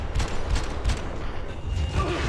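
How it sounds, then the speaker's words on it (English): Gunfire during a Max Payne 3 firefight, a rapid volley of heavy shots with booming low thumps, loud and continuous over a dense rumbling background. "Stop shooting at me!"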